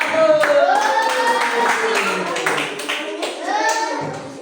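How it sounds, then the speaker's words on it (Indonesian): Primary school pupils clapping for the first team in a classroom, brief claps mixed with a teacher's voice and children chattering, moderately loud and close. "silakan tepuk tangan untuk tim 1"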